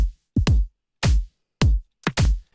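Two layered drum tracks of a self-made beat play alone: punchy kick-and-snare hits land in a clipped, stuttering pattern, with paired strikes and single hits separated by dead silence, loud and dry.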